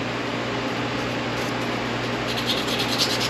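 Steady rubbing and buffing as a distributor rotor arm is polished, a soft continuous friction hiss with a low mechanical hum underneath, brighter scratchy strokes near the end, no talking.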